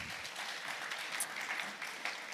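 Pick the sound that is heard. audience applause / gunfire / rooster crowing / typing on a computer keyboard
audience applause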